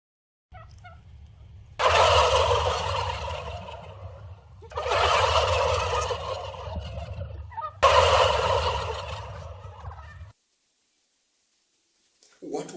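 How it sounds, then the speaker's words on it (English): A domestic turkey gobbles in three loud, close bursts, each rattling call lasting a couple of seconds, over a steady low hum of background music, then falls silent. "Correct. The turkey."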